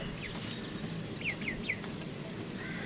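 Young chicks pecking at yardlong beans give a few soft chirping peeps in a small cluster over a steady low background hum, nearby and with no talking.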